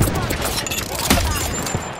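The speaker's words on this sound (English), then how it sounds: "shooting at me" Enemy gunfire in Apex Legends, a dense, continuous fusillade of overlapping shots with one sharper crack partway through, loud and close throughout.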